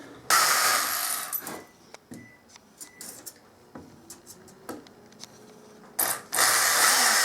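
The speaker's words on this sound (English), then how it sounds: "I got to put 2 more screws in here and then it should be done." Screws going into a wooden pot rack: short mechanical whirs and clicks from a driver in scattered bursts, with louder sustained runs at the start and end, close and without talk.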